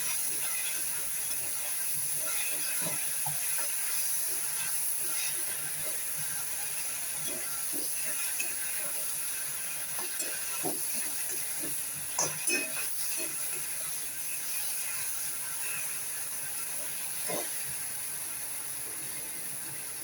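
A paste of ground mustard, poppy seed and green chilli sautés in a pan for an anchovy mustard curry, making a faint, steady sizzling hiss with scattered small pops and clicks.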